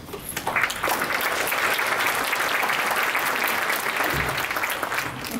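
Applause from the audience at a 2022 senior awards assembly, a dense, sustained clapping that holds steady for several seconds without letup.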